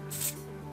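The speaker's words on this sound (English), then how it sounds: "So see, it's a spray, ooh." A short hiss from a lavender-scented cosmetic spray bottle, a single quick burst over a steady low background hum, close and fairly quiet.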